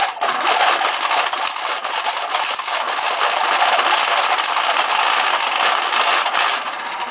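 A wooden treadle lathe spinning fast while a gouge cuts a turning wood piece, a loud, steady rushing scrape with faint rhythmic thumps from the pedal, no talking.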